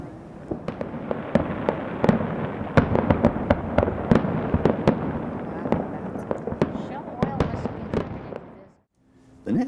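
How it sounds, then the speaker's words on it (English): Fireworks bursting over Anacortes on the Fourth of July, a dense run of sharp cracks and booms over a steady rumble for about nine seconds, fairly loud and distant, with a brief hush near the end. "enjoyed some spectacular fireworks"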